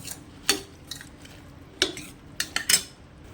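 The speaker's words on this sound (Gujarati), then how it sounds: "અને આને મિક્સ કરતા જઈશું." A spoon stirs food in a metal pot as water is added, giving a few sharp, irregular clinks and scrapes against the metal, with quiet pauses between them.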